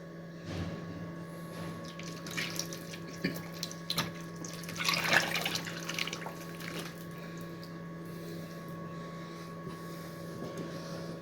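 Oil is poured into a traditional mixed pickle mixture, giving a soft, gurgling liquid trickle with occasional drips that swells briefly midway and then tapers off, close and quiet, with no talking.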